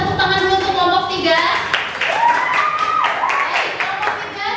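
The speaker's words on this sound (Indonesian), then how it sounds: "silakan kita berikan tepuk tangan dulu untuk kelompok 3" A classroom group claps for a presenting group during a teaching practicum session, with broadband clapping spread through the clip under overlapping talk and a whistle-like tone.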